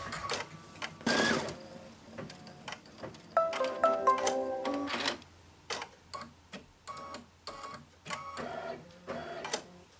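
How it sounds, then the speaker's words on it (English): A home embroidery machine runs a placement stitch for a quilt lettering project, its needle clattering in quick rhythmic bursts with short pauses as it jumps between positions, close and steady with no voices. "So I know the 900 embroidery is the placement stitch, and that's what I'm going to do right now."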